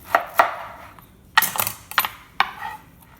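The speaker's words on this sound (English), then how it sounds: "I'm just gonna center cut this one." A knife chops through barbecued spare ribs glazed in orange soda barbecue sauce, giving several sharp, close cutting knocks on a board with short pauses between them.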